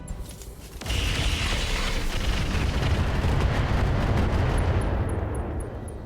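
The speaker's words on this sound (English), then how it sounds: "I'm going to fire everything we've got." Mech weapons all firing at once in the game RogueTech, a dense, sustained roar of booming, rumbling blasts that starts abruptly about a second in and rolls on loudly to the end, with faint high clicks near the close.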